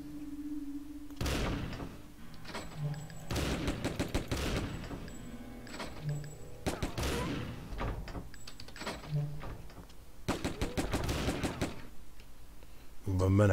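Rapid bursts of gunfire in a video game shootout, several dense volleys separated by short pauses, loud and close, with brief clanking mechanical sounds between them.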